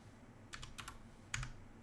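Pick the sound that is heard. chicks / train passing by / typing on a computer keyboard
typing on a computer keyboard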